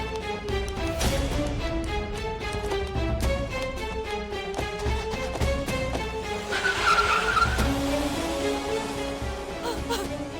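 A car pulls away with engine noise and some tire sound, set under a steady, prominent melodic music track throughout.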